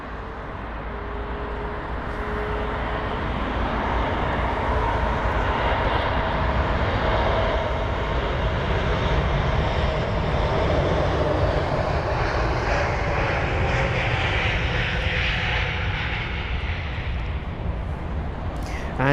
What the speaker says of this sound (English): The Lufthansa Airbus A320 Neo with the new livery, registered as Delta Alpha India November Whiskey, a 4-year-old aircraft, hosting this flight today.